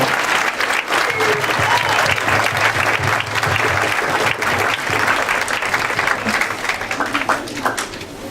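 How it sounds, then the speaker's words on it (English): An audience gives students a loud, sustained round of applause after their performance, a thick continuous roar of clapping with a faint crowd murmur underneath that eases slightly toward the end. "let's give our students a nice round of applause, because that was an excellent job"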